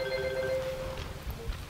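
A telephone rings for under a second, steady tonal chimes over a low background hum, then fades out with no speech.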